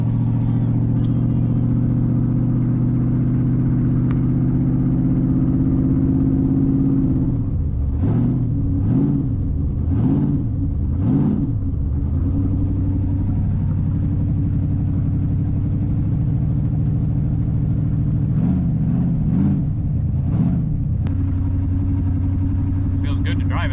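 A 1940 Chevrolet Special Deluxe car driving, its engine giving a steady low rumble that rises and falls through several revving swells partway through, heard close from inside or near the car.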